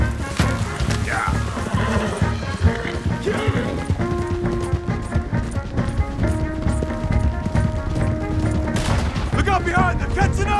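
Gunshots crack over galloping hooves and horse whinnies in a Red Dead Redemption 2 horseback shootout, with speech and music mixed in throughout the busy scene.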